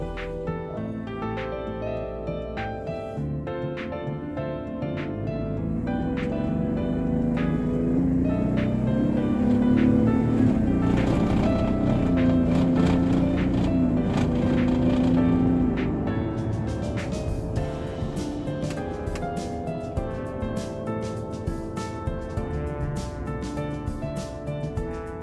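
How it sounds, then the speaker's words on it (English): A 2017 Ford F150 with the 3.5L EcoBoost engine idles and is then put under load while misfiring, giving a continuous rough drone that swells louder in the middle with a shuddering, uneven pulse before settling back. "The engine is shuddering during engine load"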